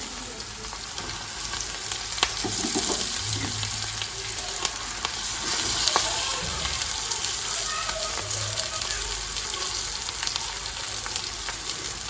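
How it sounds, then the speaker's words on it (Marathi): Fenugreek leaves (methi) frying with onion in a pan, a continuous loud sizzle with occasional stirring clatter and scrapes throughout. "तर त्यामध्ये मी आता मेथीची भाजी टाकून घेते"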